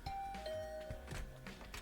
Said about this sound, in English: I rang Gaku's doorbell.